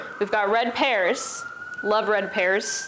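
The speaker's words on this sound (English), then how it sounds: "Sorry for the sirens." Emergency vehicle sirens wail steadily in the distance beneath close conversation on a busy city street.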